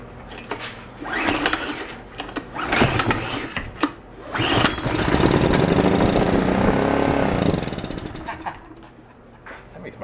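A scrap yard Honda generator sputters and tries to catch, uneven bursts of mechanical clatter giving way to a sustained, fairly loud running drone that fades near the end.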